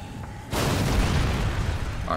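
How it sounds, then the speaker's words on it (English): A grenade explodes in the video game Dead Rising 3, a sudden loud boom that bursts in after half a second of quiet game ambience and rumbles on, with a faint later crackle. "Ah, grenade."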